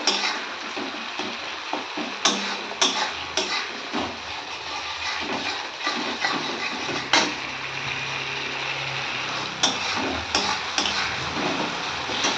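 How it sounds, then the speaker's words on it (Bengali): Ginger fries in a pan with a steady low sizzle, and a spatula scrapes and clicks against the metal in repeated irregular stirs, close and continuous with no voices. "দিয়ে দিলাম আদাটা। আর এটাকেও ভালোভাবে ভেজে দেবো।"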